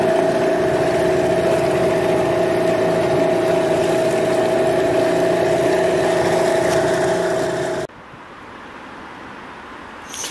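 A new Parsun T15BMS 15 hp outboard boat motor runs during break-in, a loud, steady mid-pitched drone with no talk, which cuts off abruptly near the end and leaves quieter water and wind noise.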